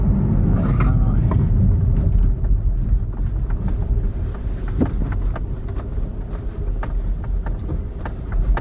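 A car driving slowly into a narrow little lane on the way to a chip shop, with a steady low engine and road rumble, some wind buffeting and small clicks and knocks throughout.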